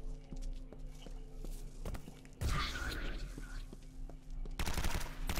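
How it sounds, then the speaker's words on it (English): Gunfire in the video game Legendary rings out in sharp repeated shots, with bursts of rapid fire amid footsteps and game noise. "I'm shooting the Virgin Mary in the head and it's not doing anything"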